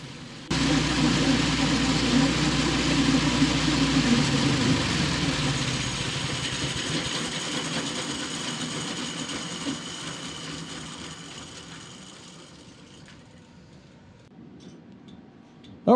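Old snow blower engine running rough, a rattling, ticking small-engine idle that starts abruptly, holds steady, then slowly fades and dies away toward the end, with no talk over it.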